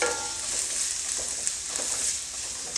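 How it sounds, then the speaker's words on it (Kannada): Green chillies and onion frying in a pan, a steady close sizzle and hiss with faint stirring scrapes now and then. "ಇವಾಗ ಇದು ಹಸಿಮೆಣ್ಸಿನ್ಕಾಯಿ ಮತ್ತು ಈರುಳ್ಳಿದು ಹಸಿ ಸ್ಮೆಲ್ ಹೋಗೋವರೆಗೂ ಇದನ್ನು ಚೆನ್ನಾಗಿ ಸ್ವಲ್ಪ ಫ್ರೈ ಮಾಡ್ಕೊಳ್ಳಿ"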